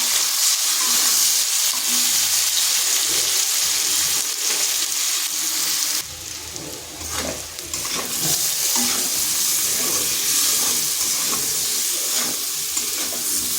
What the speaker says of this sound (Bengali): আলু আর ওলটাকে একটু ভেজে নেব।